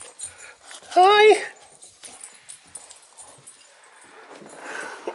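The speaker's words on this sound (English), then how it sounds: "Puppies! Puppies! Puppies!" Puppies give a short high whimpering cry near the start, then quieter rustling and faint whines follow as a woman greets them and speaks softly.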